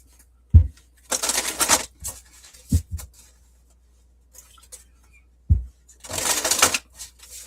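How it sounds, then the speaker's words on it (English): Sacred Forest Oracle deck being shuffled by hand during a tarot reading, two bursts of brisk riffling and flapping cards with soft taps and knocks between them, close and clear with no talking. "This is the Sacred Forest Oracle that I'm shuffling at the moment"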